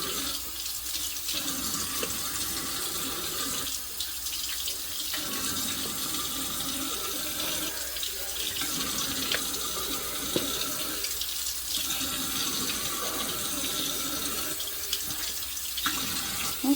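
A kitchen sink faucet runs steadily while something is washed and drained, a continuous close splashing rush with slight surges as hands move under the stream.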